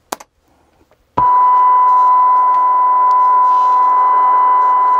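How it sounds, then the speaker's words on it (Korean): A DVS timecode vinyl record on a turntable: a couple of brief clicks, then a steady, loud, pure electronic beep tone that starts abruptly and holds unchanged to the end, with no talking. "자, 소리 들리시죠? 삐 소리예요,"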